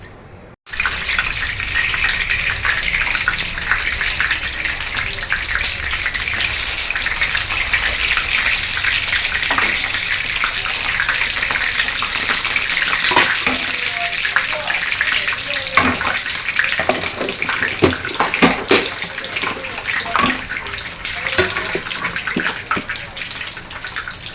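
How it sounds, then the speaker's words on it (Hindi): Shami kebabs frying in a pan, a steady, loud, continuous sizzle and crackle that runs nearly the whole time without pause, with no talking over it. "इसको भी हम फ्राई कर लेंगे।"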